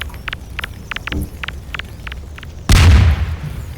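A grenade goes off in a video game as one sudden close boom after a run of quick, light footsteps-like taps.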